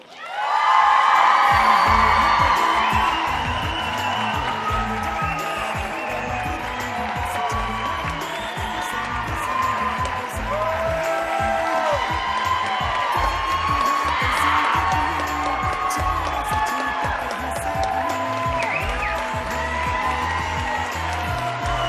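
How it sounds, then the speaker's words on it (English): An audience at the Miss Lehi 2012 pageant erupts in loud applause, cheering and whoops, a dense sustained roar of clapping and shouting that fills the hall for the whole stretch. "Ladies and gentlemen, please welcome with your roaring applause, Paige Wilkin."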